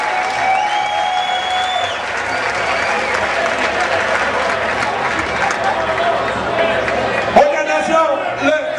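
Festival crowd at a fight event in St Albert, 2007, applauding and cheering steadily throughout, with a commentator talking over the dense clapping and a brief sharper burst near the end.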